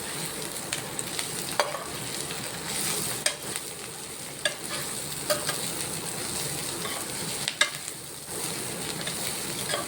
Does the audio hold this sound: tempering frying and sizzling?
yes